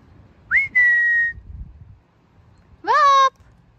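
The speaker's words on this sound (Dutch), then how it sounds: "Hij luistert nooit naar gefluit" Two separate whistled calls meant to summon a dog at a dog field: a sustained, level whistle followed after a pause by a shorter, bright rising whistle, each loud and clear over quiet outdoor background.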